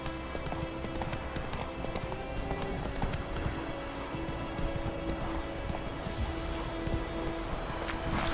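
Hooves of Roach, a horse in The Witcher video game, clip-clop steadily in a brisk rhythm that runs the whole time, fairly near, over a faint musical and ambient bed.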